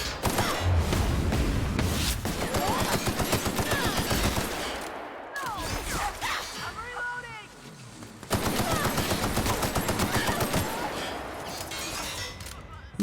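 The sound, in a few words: shotgun fire in The Outer Worlds video game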